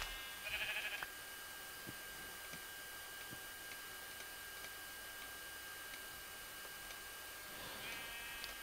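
A sheep in the Minecraft video game gives a short synthetic bleat near the start and another toward the end, both faint, separated by quiet background with a few small ticks.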